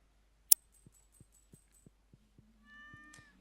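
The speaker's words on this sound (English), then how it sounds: "Say hi to the cat" A cat meows in the Stardew Valley farming video game after a sharp click, with a series of soft evenly spaced thumps before the drawn-out synthesized meow near the end.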